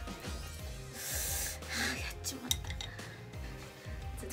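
A utensil stirring thick melted chocolate packed with walnuts in a bowl, with soft scraping and occasional clinks against the bowl, close and fairly quiet.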